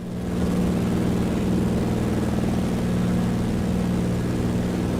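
A light aircraft engine drones at high power through takeoff and climb, a loud, steady propeller hum with deep harmonic tones that settles in after a short build and holds without talk.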